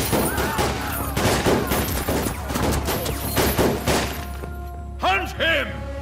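Gunfire from a dubbed action movie, a dense volley of shots and thuds over a steady low rumble and music, with voices and shouting throughout before the firing gives way.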